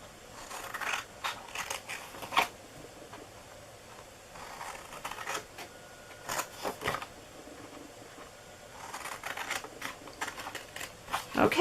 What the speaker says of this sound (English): Let's cut the bottom flaps up.